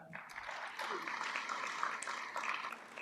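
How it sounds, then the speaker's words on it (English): Audience at a university graduation ceremony in Nairobi claps for a scholarship-winning graduate, a faint, distant, steady patter of many hands heard through a broadcast feed, with a voice at the start. "So may we applaud her."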